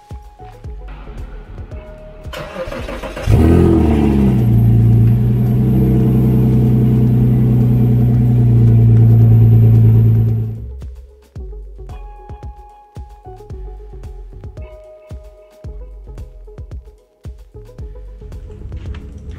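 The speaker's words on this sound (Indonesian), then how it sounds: "kita sekarang dengerin cold start-nya si Porsche karena ini udah 2 hari nggak gue hidupin" A Porsche engine cold-starts after sitting unused for two days, cranking then catching into a loud, steady idle for several seconds before shutting off, leaving quieter clatter and background noises.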